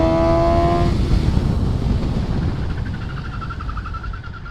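A 2019 Suzuki GSX-S 750 naked motorcycle revs hard up through its range close by, a loud, steady engine roar with a rising tone at the start.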